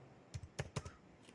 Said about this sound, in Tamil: ஃபுல்லாக டைப் பண்ணிக்கிறேன்.